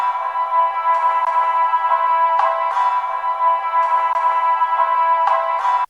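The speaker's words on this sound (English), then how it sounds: "So I also added some of the strings in the first sequence and they sound like this." Sampled string chops sequenced on an MPC Live II loop in a steady pattern, bright sustained bowed tones with sharp re-triggered attacks roughly every half second, clean and upfront with no drums or talking.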